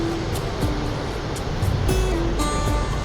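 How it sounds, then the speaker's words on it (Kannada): Water pours steadily at Gaganachukki waterfall, a dense continuous roar that stays even and loud throughout with no voices. "ನೀರು ಬೀಳೋ ಶಬ್ದ ಇದೆ ನೋಡಿ."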